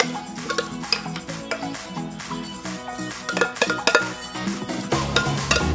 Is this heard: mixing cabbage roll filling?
yes